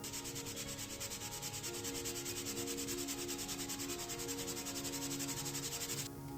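Wood being sanded for a console table build, a steady, continuous abrasive rubbing that stays close and even for about six seconds before cutting off abruptly, with no voices.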